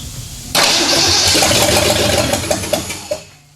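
A 1979 AMC Spirit AMX 304 V8 engine cranks and catches with an abrupt loud start, then runs roughly with uneven sputters and pops close by.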